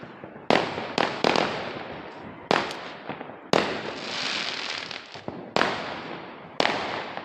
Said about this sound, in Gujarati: ચોપરથી તમને અવાજ મિત્રો આવી રહ્યો છે બોમ્બ ફૂટાનો